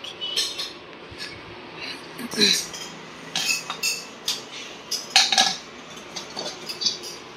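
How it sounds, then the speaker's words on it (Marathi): A steel pressure cooker lid being fitted and twisted shut in a kitchenware showroom, giving a series of close, sharp metallic clinks and scrapes in irregular bursts against a quiet background. "तुम्ही 2 ॲरो मॅच केले आणि फिरवलं की हे बंद होतं."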